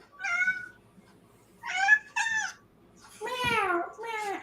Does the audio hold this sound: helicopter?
no